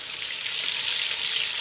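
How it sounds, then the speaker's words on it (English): Chicken wings fry in hot oil, giving a steady, dense hiss and crackle that holds evenly throughout, close and fairly loud with no voices. "it's been frying for at least 5 minutes"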